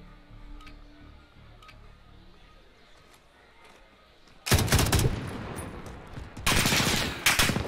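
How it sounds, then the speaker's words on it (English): Light machine gun fire in a Call of Duty 2v2 Gunfight match: quiet ticking at first, then two loud, dense bursts of rapid automatic shots, the second starting a couple of seconds after the first. "Now we got the LMGs going."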